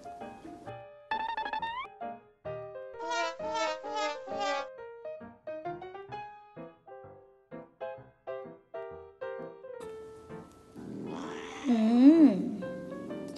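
An angry cat resists while its black chin is being cleaned, giving a string of loud, drawn-out protesting meows and yowls in rising and falling bursts, with a harsher growling cry near the end.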